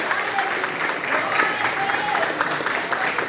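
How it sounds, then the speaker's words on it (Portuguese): A church congregation claps together during a sermon, steady dense applause filling the room for a few seconds with voices mixed in. "Pode aplaudir Jesus?"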